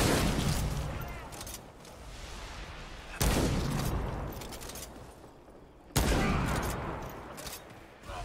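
Gunfire in the Remnant II video game, heavy blasts hitting at roughly three-second intervals, each leaving a long, rumbling decay, with a steady battle din underneath.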